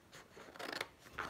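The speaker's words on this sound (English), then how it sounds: "I'm gonna try and cut a piece out of the middle with my craft scissors." Craft scissors cut through card stock in a few quick, crisp snips, close and quiet with no talking.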